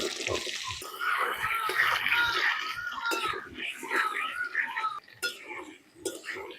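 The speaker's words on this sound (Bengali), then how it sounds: "আমগুলোকে 30 সেকেন্ড মতো একটু তেলের মধ্যে নাড়াচাড়া করে নিলাম" Raw mango pieces for pickle are stirred in hot oil that already holds fried black mustard seeds and five-spice tempering, giving a steady frying hiss and wet crackle under a voice talking throughout.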